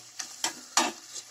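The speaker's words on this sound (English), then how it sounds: "Onion is frying." Onion frying in a pan for brinjal biryani, with faint sizzling and a few soft stirring scrapes spaced across a short, quiet stretch.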